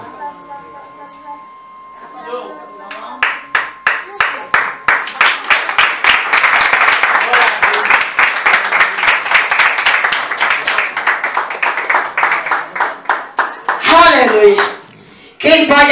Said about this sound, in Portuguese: Quem pode aplaudir ao rei? Aplauda o rei